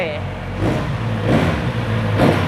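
A 2019 Kawasaki Z900RS motorcycle exhaust rumbles steadily and is revved up in three short surges, the pitch rising and falling with each blip of the throttle.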